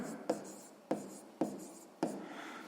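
Pen writing in a notebook during a sixth-grade maths exercise, four separate bursts of scratchy strokes spaced about half a second apart, each starting with a sharp tap, close and quiet with no voices.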